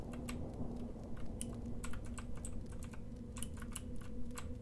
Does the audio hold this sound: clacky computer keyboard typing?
yes